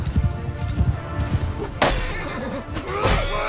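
Horses whinny amid a medieval battle in Mount & Blade II Bannerlord, with thudding hooves and clashing impacts, two sharp crashing bursts and a neigh rising over the din, moderately loud with no talk.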